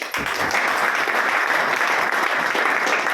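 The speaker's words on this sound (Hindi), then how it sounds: "छोटे जगह दिल से ताली आ जाए।" An audience claps in dense, sustained applause that is loud and close, holding steady throughout with no pauses.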